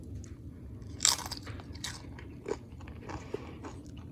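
Someone tasting homemade salsa, with a few quiet, close crunchy bites and wet chewing sounds, one sharper crunch near the start, in an otherwise quiet room and with no talking.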